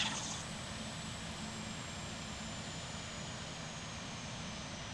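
A steady, even jet-engine drone from an Airbus A320neo in Microsoft Flight Simulator runs unbroken and moderately loud, with a thin high whine above it and no voices.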